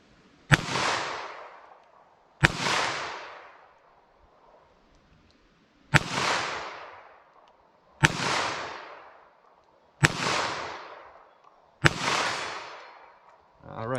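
Six sharp gunshots from a .22 Magnum handgun fired at a target 75 yards away, evenly spaced a couple of seconds apart, each a crisp crack trailing into a short outdoor echo.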